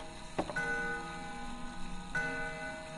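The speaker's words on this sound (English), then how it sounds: "It's an antique grandfather clock. The noise is definitely coming from here." Antique grandfather clock in the horror game Death Mark, two distinct ticks about two seconds apart, each ringing briefly over a quiet hum, close and clear with no talk.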